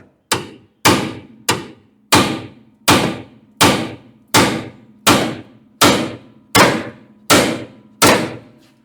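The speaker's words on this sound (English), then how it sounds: "Let me get a hammer." Steady hammer blows on a truck's suspension bolt, about a dozen evenly spaced metallic strikes, each loud and close with a brief ringing decay.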